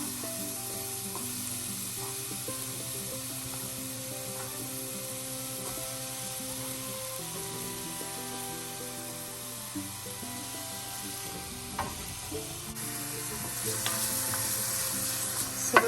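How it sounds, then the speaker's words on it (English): Onions and jalapeno peppers sizzle steadily in olive oil in a preheated skillet, a loud, even frying hiss held close for the whole stretch, swelling slightly near the end with a few stirring knocks. "I'm going to add some olive oil to it. And these onions and jalapeno peppers are gonna go in there."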